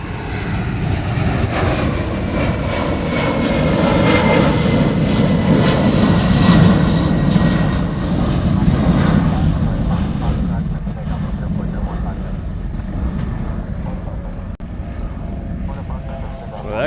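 A loud aircraft passes at Honolulu airport. A heavy, broad engine roar holds steady for most of the span, swells in the middle, then slowly fades as it moves away.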